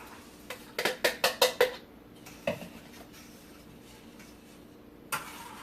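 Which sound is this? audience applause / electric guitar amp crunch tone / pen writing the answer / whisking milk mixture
whisking milk mixture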